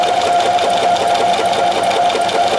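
Domestic sewing machine running steadily on zigzag stitch over a wool yarn cord, a continuous close, loud whirring hum with a fast rhythmic mechanical patter throughout.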